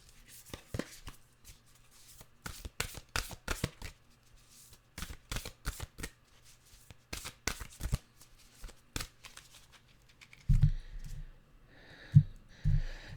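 Oracle cards from a Nature's Whispers deck are shuffled close by in quick, crisp riffling bursts with short pauses between, quiet overall, ending with a couple of soft thumps.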